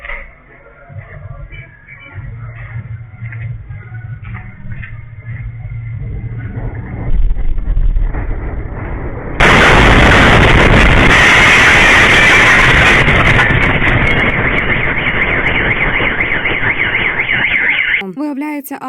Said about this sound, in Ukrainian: Послухайте тільки звук самого вибуху.